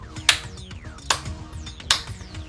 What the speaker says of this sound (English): My slow clap! You didn't hear it in quite some time, but it's back!